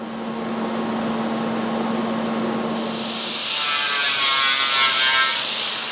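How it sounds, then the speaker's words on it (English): A grinder works down a weld on a 1962 classic car fender, a steady loud hum for the first half, then a harsher, brighter grinding whine that holds to the end. "I've started grinding this top of the weld off just a little bit."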